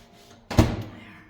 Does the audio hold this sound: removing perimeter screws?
no